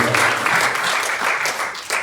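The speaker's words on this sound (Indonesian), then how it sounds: "Tepuk tangan dulu yang berikan buat kita yang kuat" Church congregation applauding at an Easter service, a steady dense wash of clapping lasting throughout, fairly loud and close, with voices mixed in beneath.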